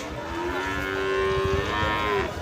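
Cattle moo at a bull market, one long, loud, steady bellow lasting a couple of seconds over a constant crowd murmur.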